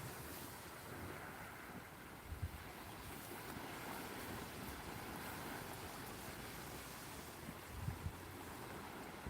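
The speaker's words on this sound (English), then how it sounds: "Got some nice surf building." Surf builds and breaks along a beach during shore fishing, a steady broadband wash of waves mixed with wind buffeting the microphone, with faint thumps now and then.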